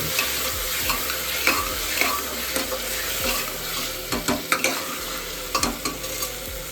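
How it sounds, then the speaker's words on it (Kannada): Ginger-garlic paste frying with tomato for pulao sizzles loudly and continuously, broken by repeated sharp scrapes and clacks of a spoon stirring against the pan, close by and with no talk. "ಈಗ ಸ್ವಲ್ಪ ಅಲ್ಲ ಬೆಳ್ಳುಳ್ಳಿ ಪೇಸ್ಟ್ ಹಾಕಿ ಸ್ವಲ್ಪ ಹಸಿ ಸ್ಮೆಲ್ ಹೋಗೋ ತನಕ ಟೊಮೆಟೊ ಜೊತೆಗೆ ಇದನ್ನು ಬೆಂದ್ಕೊಂಡು"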